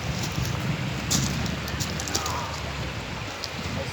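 Rain falls on a drought-stricken desert, a dense, close patter of drops with a few brief louder taps and a low rumble beneath, and no talking.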